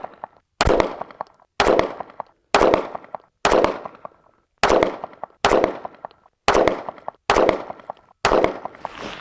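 Nine loud pistol shots at a shooting range, spaced about one second apart in a steady rhythm, each a sharp crack with a short decaying tail and no talk between them.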